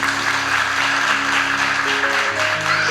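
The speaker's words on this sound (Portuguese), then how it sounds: "Quem pode dar um aplauso ao Senhor Jesus?" A church congregation applauds in praise of Jesus, a dense steady wash of clapping over sustained organ or keyboard chords, loud and continuous throughout.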